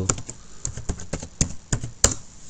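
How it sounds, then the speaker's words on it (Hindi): A computer keyboard is typed on in quick, uneven bursts of close, sharp key clicks as a Wi-Fi password is entered on a Windows PC, with no speech over the tapping. "मैं दोबारा से यहाँ पे पासवर्ड एंटर करता हूँ"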